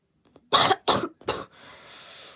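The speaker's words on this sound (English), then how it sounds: "I have a cough." Three sharp, close coughs in quick succession from a cartoon character, followed by a soft breathy exhale.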